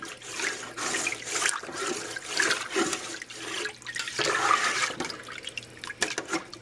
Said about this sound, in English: Stir it in real good.